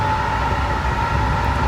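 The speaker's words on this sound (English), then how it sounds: "the doors closed, and then the train took off" A train pulls away from a platform in Brussels or Bruges after its doors close, giving a loud, steady rumble with a sustained tonal whine, continuous and close throughout with no talk.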